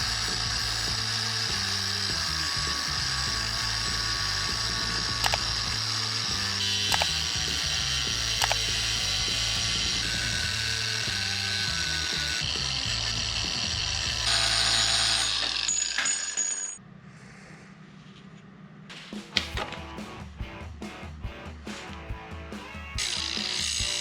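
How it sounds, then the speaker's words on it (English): A Ryobi cordless angle grinder cuts through steel pipe with a loud, continuous high-pitched whine and grinding screech, close by, before cutting off abruptly and leaving a few scattered clanks and handling noises. "For this final test of cutting through a steel pipe,"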